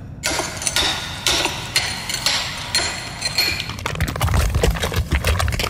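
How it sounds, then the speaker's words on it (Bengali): Repeated sharp metallic strikes on hard stone at a slow, uneven rhythm as stone is hammered and drilled by hand, followed by a denser stretch of rapid clattering and grinding. "ফলে পাথর ড্রিল করতে হলো সেই প্রাচীন কায়দায়"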